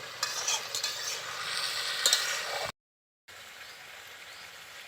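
Desi chicken curry being stirred in a pan for a picnic meal, a steady close scraping and sizzling for a few seconds, then a brief silent gap before softer sizzling resumes.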